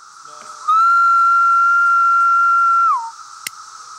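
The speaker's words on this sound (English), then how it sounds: "But now that whistling sound, that's the male." A male cicada gives a single sustained, steady whistling call lasting about two seconds, rising sharply at the start and dropping away at the end, with a constant high hiss of insects behind it and a brief click afterward.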